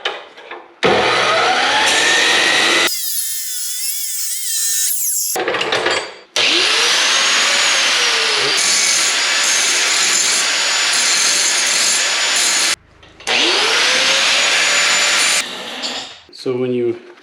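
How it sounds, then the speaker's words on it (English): An angle grinder bevels metal at 45 degrees in preparation for a butt weld, running in loud, sustained bursts of harsh whine with short pauses between passes, close by. "So when you grind for a weld, it's good to grind at a 45"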